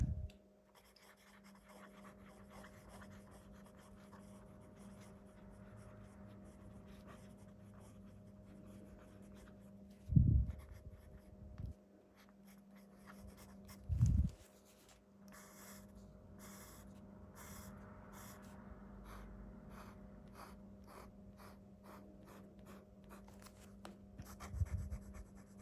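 Fountain pen with a titanium nib, a Leonardo MZG, scratching across paper in quiet strokes with slight pencil-like feedback, a few louder bumps along the way.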